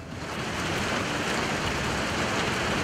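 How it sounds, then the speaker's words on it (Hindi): Dense, even hiss of steady rain pours down across a city without a break, loud and close, with no voices over it. "बारिश होने लगी।"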